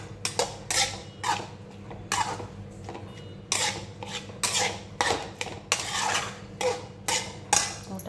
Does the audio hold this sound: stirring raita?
yes